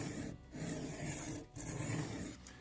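MKM TPF knife drawn across cheap diamond plates, three quick rasping strokes with brief gaps between them, close and quiet.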